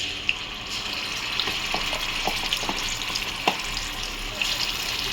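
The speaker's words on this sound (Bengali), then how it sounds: "এই পর্যায়ে রসুন বাটা দিয়ে দিলাম, রসুনটা ভেজে আমি ফিরছি।" Garlic paste frying in oil in a wok over a medium gas flame, a steady broadband sizzle with a few soft scraping stirs and small pops, close and alone.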